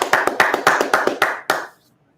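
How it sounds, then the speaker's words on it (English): A congregation at a Sabbath service claps in a short rhythmic burst, about a dozen sharp, close hand claps at a steady beat that stop abruptly after under two seconds. "clap it up"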